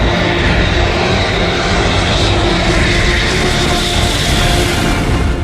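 Fighter jet such as a Rafale or Sukhoi on an expressway airstrip, a loud, steady broadband engine roar filling the whole stretch without a break, close and continuous, with no voices.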